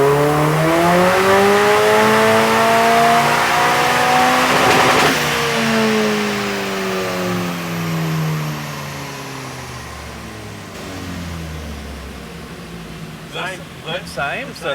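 A tuned car engine run at full throttle on a dyno, a loud close roar climbing steadily in pitch for about five seconds, then dropping away as it winds down, with brief voices near the end.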